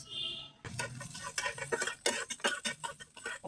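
Chopped garlic drops into hot oil in a pan for a tempering on masoor dal with tomato, bursting into a crackling, spattering sizzle after a brief quieter start, close and fairly loud with no talk.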